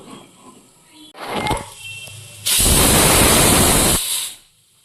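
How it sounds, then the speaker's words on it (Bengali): Pressure cooker on a home stove releases its whistle, a loud sustained hissing blast of steam lasting about a second and a half, preceded by lighter sputtering and clatter. "এই যে একটা সিটি পড়লো"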